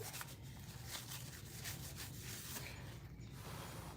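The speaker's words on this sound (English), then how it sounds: "Now I'm gonna take and prep this back acrylic, sand it, wipe it down" An acrylic back piece being sanded by hand for a glitter craft, heard as faint, steady rubbing and scratching strokes with no talking.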